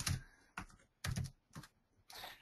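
Five short bursts of typing on a computer keyboard, each a quick cluster of clicking keystrokes separated by brief pauses, faint and close.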